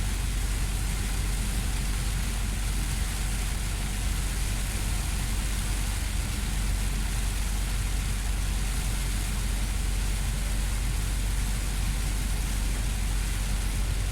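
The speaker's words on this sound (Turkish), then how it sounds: "Yağmurun sesine bak" Rain falls steadily during a coastal drive, a dense, even hiss that stays constant throughout with a low rumble beneath it and no voices.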